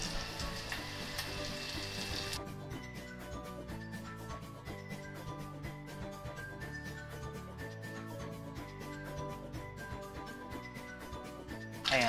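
Siomai fry in a hot pan with a loud, continuous crackling sizzle that starts abruptly and holds steady close by, with no voices over it.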